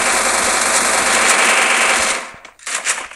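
AK-47 automatic gunfire in the Free Fire Max video game: a loud, sustained rapid burst lasting about two seconds, then a brief pause and a shorter, sharper burst.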